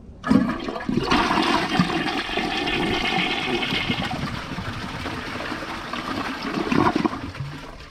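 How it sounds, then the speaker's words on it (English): A 2006 Mansfield Alto toilet flushing into a dry bowl, a close, strong rush of water swirling and draining for several seconds, then easing into a trickling refill. "Here's a flush with a dry bowl."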